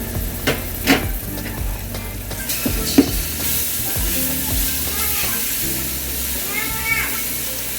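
Ginger garlic paste fries in a pan for Ambur chicken biryani, sizzling steadily while a spoon scrapes and clinks against the pan in irregular strokes, up close and without talk.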